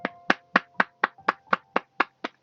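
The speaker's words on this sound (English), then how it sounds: "I applaud you." Ten sharp hand claps in a steady, evenly spaced rhythm, close and clear, sounding as a short round of applause from a single person in a quiet room.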